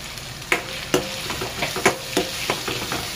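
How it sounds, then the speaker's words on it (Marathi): Onion frying in a pan for egg dal fry, with curry leaves and garlic already added. A close, steady sizzle is broken by sharp spoon scrapes at irregular intervals. "कांद्याला चांगला आपण खरपूस भाजून घेऊया"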